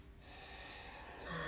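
A yoga instructor breathing in and out during a slow yoga session, one long airy breath close to the microphone, steady and soft, swelling slightly at the end.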